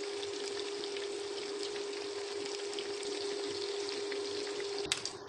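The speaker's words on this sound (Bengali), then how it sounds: "তেলের মধ্যে মাংসগুলোকে এপিট ওপিট করে খুব সুন্দর করে ভেজে নেব" Chicken pieces frying in hot oil as they are browned for a Bengali chicken and potato curry: a steady, close, dense sizzle that runs without a break, with a brief louder spatter near the end and no talking.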